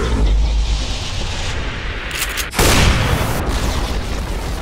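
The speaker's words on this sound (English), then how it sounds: "Radiant's middle tower has fallen." A tower collapsing in Dota 2, heard as a loud, sustained rumbling crash with a sharp boom near the middle, followed by continued heavy debris noise.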